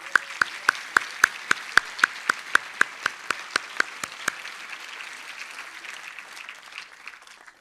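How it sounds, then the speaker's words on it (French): Audience at the opening session of a botanical conference claps in a brief, distinct run of sharp individual hand claps, a few people clapping in a regular rhythm before it fades into quiet room tone. "je vous propose de les applaudir et de les remercier dès maintenant"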